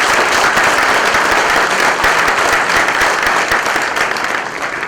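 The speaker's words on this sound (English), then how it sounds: "Let's give a big round of applause to everyone here today." Loud, sustained applause from an audience in an auditorium at an IEEE international conference, a thick continuous roar of many hands clapping that holds steady and eases off slightly near the end, with no talk over it.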